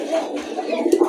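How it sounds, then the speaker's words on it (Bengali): Racing pigeons coo in soft, low rounded bursts that repeat steadily through the short stretch, close by, with a faint murmur of voices underneath. "এখানে আরো দুইটা কবুতর চলে আসছে,"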